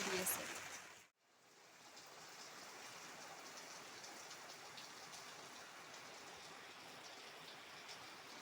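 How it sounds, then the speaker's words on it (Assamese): Heavy rain falls steadily, a dense, even hiss that fills the whole scene. A brief drop to near silence comes about one second in, then the downpour resumes and holds constant and close. "অতি খুব বৰষুণ দি আছে।"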